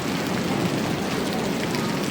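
Heavy rain pouring down steadily during a thunderstorm, a dense continuous hiss with no breaks, close and fairly loud.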